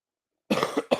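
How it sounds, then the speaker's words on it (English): During a live call of a Chicago Bulls versus Detroit Pistons basketball game, a man gives a short, sharp cough close up after a brief silence, followed by a second quick cough. "you hear me with a little bit of a cough or something"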